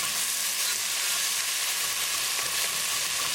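Tomatoes cooking in a pan for a black-eyed pea dish, a steady close sizzle of frying with soft stirring and scraping as they are mixed, continuous and fairly loud throughout.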